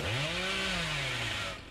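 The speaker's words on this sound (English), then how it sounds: "Use the chainsaw to get this door broken." A chainsaw roars continuously in Dead by Daylight as it is used to break a door, a loud, buzzing engine whine that bends in pitch before tapering off at the end.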